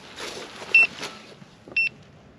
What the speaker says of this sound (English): 5 beeps, that's way too many beeps